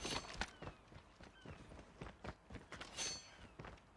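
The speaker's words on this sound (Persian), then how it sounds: "صدا پاشو میشنم." Enemy footsteps in a video game: a quick, regular run of close, crisp footfalls, fairly quiet, with no talking.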